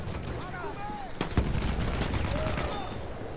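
Gunfire in a Battlefield 1 team deathmatch, scattered shots and a sharp nearby crack over a dense, continuous battle din, with faint whistling sweeps drifting through.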